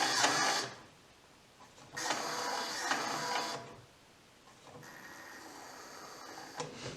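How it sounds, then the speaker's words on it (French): Electric gears in an airsoft PKM ammo box whir in three separate bursts, the motor's mechanical buzz starting and stopping with quiet gaps between runs. "si on appuie sur le bouton, voilà, les dents tournent, les engrenages"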